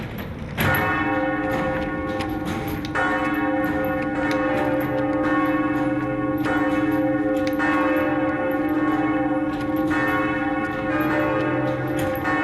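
Bronze cathedral bells of Notre Dame, cast in 1856 from captured cannon, ring loud and resonant with repeated strikes layering over a long humming sustain.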